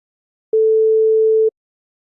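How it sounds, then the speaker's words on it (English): A single pure synthesized sine-wave tone from one oscillator in an Unreal Engine MetaSound, holding a steady pitch for about a second, then cutting off cleanly into silence. "inside it I used just one sine wave oscillator."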